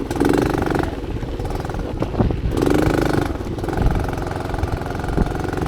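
A dirt bike engine runs steadily in -35°C cold, a close, loud, continuous mid-pitched drone with small surges and no talk over it.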